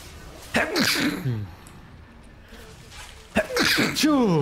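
Two loud, sharp sneezes close to the mic, each a forceful burst, a few seconds apart, during a League of Legends match.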